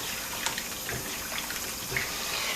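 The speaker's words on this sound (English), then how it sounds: "now I can just let that soak and agitate that water like so" Water in a kitchen sink is swirled by hand while vegetables and fruit soak, giving a soft, continuous sloshing with light splashes, fairly quiet and close.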